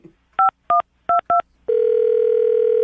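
A phone number dialed on a telephone: four short, evenly spaced tone pairs, then a steady continuous tone, clear and close with no voices.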